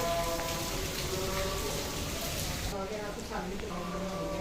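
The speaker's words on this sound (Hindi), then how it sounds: "ये देखिए बहुत तेज़ बारिश हो रही है।" Heavy rain pours steadily and loudly outdoors with a dense, continuous hiss of drops, while people talk over it throughout and some tonal household sounds drift in.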